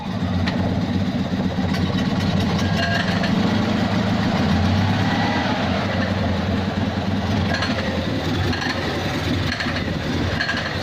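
Invacar engine running, a continuous rough idle with an irregular rattling clatter over a low mechanical drone, fairly close and steady.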